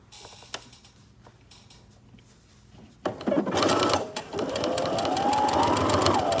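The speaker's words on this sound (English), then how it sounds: "My machine is sewing from the bottom of my buttonhole to the front" A home sewing machine fitted with an automatic buttonhole foot stitches a buttonhole, starting with faint clicks and ticks, then a loud, close, rapid mechanical whirr of stitching that runs steadily to the end.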